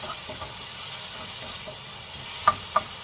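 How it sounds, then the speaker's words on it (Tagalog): Onion and tomato stir-fry in a pan with spices, giving a soft, steady sizzle and hiss close by, with a couple of sharp utensil clicks toward the end. "stir fry the onion and tomato while putting all those spices"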